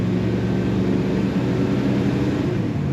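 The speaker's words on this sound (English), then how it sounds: "Nice exhaust though." A 1971 Chevrolet Chevelle Malibu two-door hardtop idles through its exhaust, giving a loud, steady, low rumbling drone close by that holds even for the whole stretch without revving.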